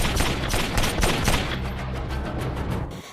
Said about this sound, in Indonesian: Dan terjadilah baku tembak antara Chelios dengan anak buah Carlito.